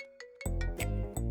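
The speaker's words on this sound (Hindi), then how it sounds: "देखो, उस बदमाश का ही फोन आ रहा है।" A mobile phone rings with an incoming call, a short bright electronic ringtone of repeating melodic notes, close and clear, starting quietly and then swelling in volume.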